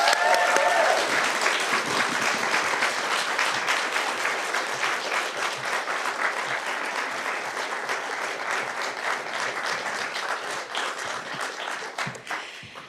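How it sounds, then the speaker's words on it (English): Sustained audience applause greets a professor at an inaugural public lecture, a dense, steady clatter of many hands at full strength that eases slightly toward the end. "So, a round of applause, please."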